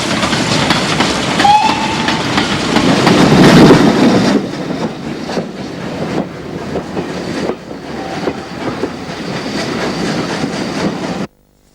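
Spanish narrow gauge train running along the tracks near Santander, a loud steady rumble with rhythmic wheel clatter and a brief whistle early on, continuing until an abrupt stop.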